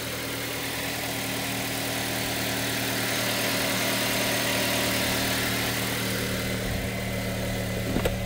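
Four-cylinder 2.7-litre engine of a 2008 Toyota Hiace 4x4 camper running at a steady idle, a close, continuous low hum with a few tonal bands and no talking over it.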